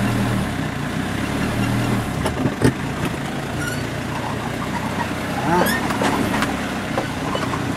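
A big blue truck stuck in a muddy rut makes a steady, loud engine drone with slight surges as the wheels try to grip, with muffled voices underneath.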